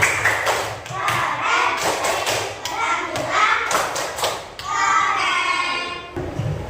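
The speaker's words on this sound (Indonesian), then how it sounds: "Tepuk tangan untuk Mbak Kani" Children in a classroom clap for a classmate, a burst of uneven hand claps and thumps with kids' voices chattering underneath, fairly close and lively.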